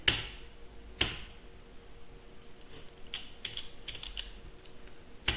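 Sparse, crisp keystroke taps on a computer keyboard during data entry in accounting software: a few isolated clicks, then a small cluster of presses, close and fairly quiet, with no speech.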